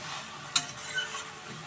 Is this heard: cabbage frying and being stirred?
yes